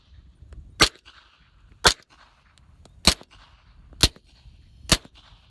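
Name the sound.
suppressed 9mm pistol shots, Rugged Obsidian suppressor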